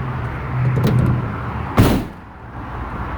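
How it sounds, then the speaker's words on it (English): A wheelchair-accessible 2019 Ford Transit 150 van's door slams shut once with a solid thud over a steady low engine idle, nearby and fairly loud. "Shut these doors here."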